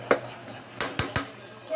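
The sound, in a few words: stirring beef caldereta with liver spread in pot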